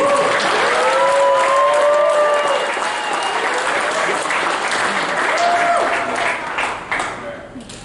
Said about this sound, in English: a good hooligan applause